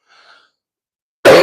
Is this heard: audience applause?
no